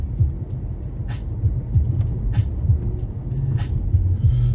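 Interior sound of a car driving on the road in good weather: a steady low engine and road rumble with a series of faint, evenly spaced ticking or clicking sounds above it.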